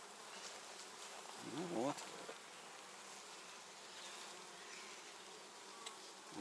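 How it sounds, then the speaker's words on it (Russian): Honeybees buzzing in a dense, steady hum around a frame lifted from a hive in spring, with a brief louder buzz as bees pass near and a few quiet words spoken. "Вот сколько пчел с пыльцой они уже укладывают."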